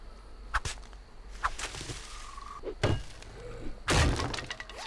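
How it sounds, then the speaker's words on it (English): A spike being smashed in the video game Afterlife, a series of sharp whipping cracks and hollow thunks ending in a louder breaking burst, fairly close and without speech. "it's a shame I had to destroy that spike"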